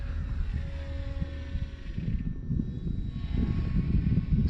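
A HobbyZone Carbon Cub S2 RC foam plane flies in wind, its small electric motor and propeller giving a steady buzzing drone that swells slightly over a gusty low rumble, with no talking.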